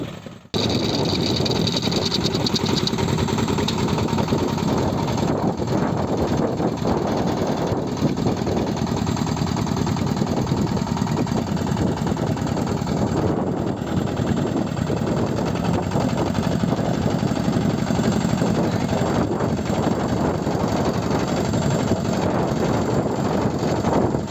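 A Kentavr 160V walk-behind motor tractor engine, hitched to a potato planter, runs continuously with a steady low rumble and rattling drone, unchanging throughout, with no voices.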